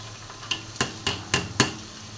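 Rice is stirred into hot oil with fried onions and garam masala for pulao, giving five evenly spaced metallic clacks of a spoon against the pot over a faint sizzle.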